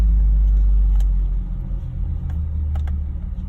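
A car engine idles after a new throttle body install, held near 2,000 RPM while it adjusts. It makes a steady, close, deep rumble that dips slightly partway through, with no talking.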